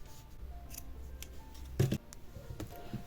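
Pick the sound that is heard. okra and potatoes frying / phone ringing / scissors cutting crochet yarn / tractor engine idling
scissors cutting crochet yarn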